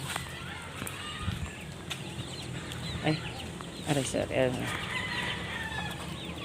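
Chickens, including hens, cluck in short bursts around a farmyard, with a few louder calls nearby and brief Filipino speech partway through.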